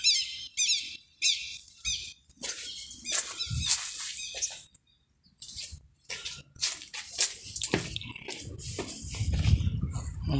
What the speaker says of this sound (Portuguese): Caraca, olha o tanto de passarinho aqui